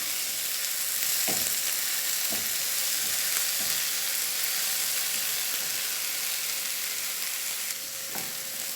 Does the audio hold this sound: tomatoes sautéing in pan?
yes